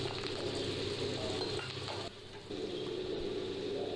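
Shallots and curry leaves sizzle steadily in hot oil in a pan for a Kerala-style beef roast, a continuous close crackle with a brief dip midway.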